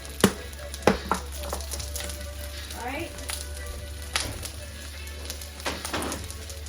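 A black bean and mushroom burger mixture with flour cooks in a pan, giving a soft steady sizzle with occasional sharp clicks and taps of utensils against the pan over a low background hum, with no talking.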